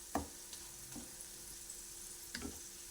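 Tomato pickle ingredients fry gently in a pan left on residual heat after the stove is switched off, giving a quiet, soft sizzle with a few faint ticks and small pops.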